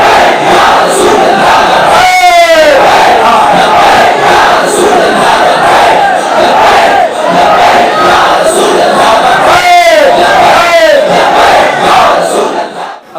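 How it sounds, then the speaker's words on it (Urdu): Large crowd at a religious gathering loudly chanting the Labbaik slogan in unison, a roaring mass of voices with rising shouted calls repeating twice. "لبیک کا نعرہ ذرا لگاؤ جی، ہن چلاؤ نعرہ سارے بولو"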